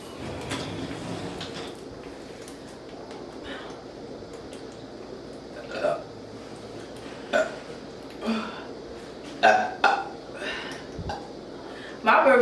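Loud, high-pitched burps after gulping a 2-liter bottle of root beer, several short bursts coming in quick succession near the end, with faint talking and room noise between them.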